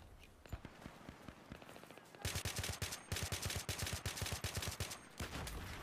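AN94 rifle in Battlefield 3 firing repeated rapid bursts, loud sharp cracks in quick streams of rounds with brief pauses between volleys.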